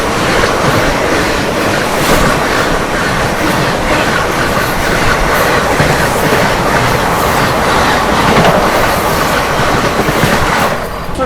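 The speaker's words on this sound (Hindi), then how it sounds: "सामने से आते हुए 12237 बनारस जम्मू तवी बेगमपुरा।" Express train 12237, the Banaras–Jammu Tawi Begampura, passes close by in India, a loud, steady roar of wheels and rushing wagons with rapid clattering that fills the whole stretch without any voices.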